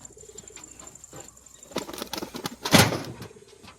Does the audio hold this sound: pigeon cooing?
yes